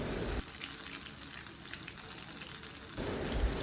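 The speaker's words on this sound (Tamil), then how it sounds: "நிதானமாக எண்ணெயில் அப்பம் வெந்துட்டுருக்குதுங்க" Slices of Nendran banana coated in appam batter fry in hot oil, giving a steady, dense sizzle that holds close and constant for the whole stretch, with no voices over it.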